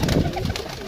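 A pigeon coos once, close by, in a short low throaty burst against a busy, noisy background.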